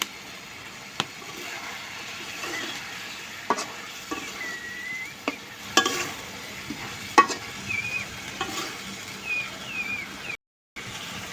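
Rohu fish curry sautés in a clay pot, a soft, continuous sizzle with periodic spoon scrapes and knocks against the pot, close and unhurried, ending in a brief silence.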